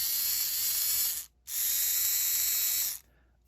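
A small brass cog mechanism powered by a 9-volt battery whirs with a steady high-pitched buzz, cutting out briefly before resuming and then stopping, close up with no talking.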